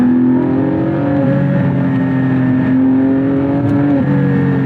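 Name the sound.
Porsche Spyder naturally aspirated engine revving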